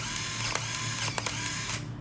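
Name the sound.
Olympus AF1 Twin film camera back closing and locking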